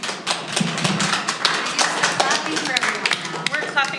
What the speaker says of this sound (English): We're clapping for Todd.